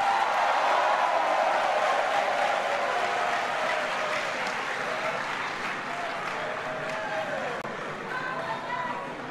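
Sustained applause from a large audience welcoming President Rawlings at an election peace and justice gathering, steady and loud throughout with crowd noise, easing slightly toward the end.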